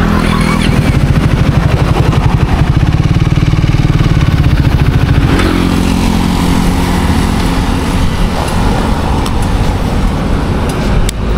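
A Triumph Speed 400 roadster motorcycle's 400cc engine idles close by, a steady loud rhythmic putter that carries on unbroken throughout, shifting slightly in tone partway through.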